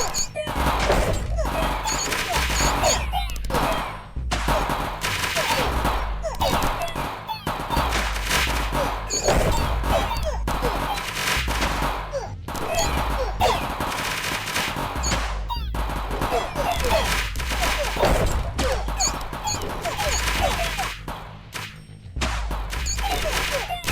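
Gunfire from guns in the video game 9 Kings, dense bursts of rapid shots and crashing impacts nearly continuous throughout, loud and close, with brief gaps and a voice speaking over the action.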